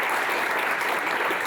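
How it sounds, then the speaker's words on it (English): Sweeping round of applause from an audience at the close of a talk introducing the SymPy library, steady dense clapping throughout, loud and alone. "Sweeping round of applause that was"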